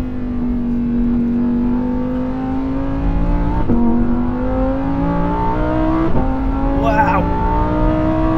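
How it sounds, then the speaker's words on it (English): A Lamborghini Huracan Tecnica V10 supercar revs hard on a track, its engine note climbing steadily through the gears, loud and close from inside the cabin, with brief upshift breaks and a voice exclaiming over it. "All that noise! Such a wonderful engine, this."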